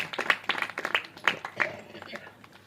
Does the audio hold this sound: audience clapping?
yes